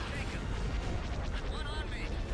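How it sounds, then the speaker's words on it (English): Y-wing starfighters blowing up during a Star Wars space battle game: a rumbling, continuous wash of explosions and blaster fire with booming low end, dense and loud throughout, with faint whooshing effects on top. "There, they're exploding"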